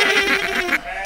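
A single loud, wavering sheep-like baa is held for under a second, made by human voices imitating the animal, followed by quieter room sound.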